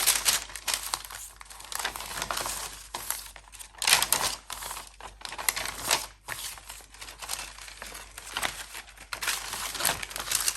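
Baking paper crinkled and crumpled by hand in a papercraft session, close and fairly loud, with bursts of rustling and brief pauses, no talking.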